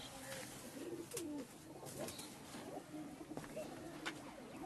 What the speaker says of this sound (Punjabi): ਕਬੂਤਰ ਤੁਸੀਂ ਖੁੱਡੇ 'ਚ ਦੇਖ ਲਿਓ